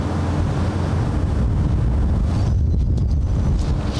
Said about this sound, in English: That was a big gust.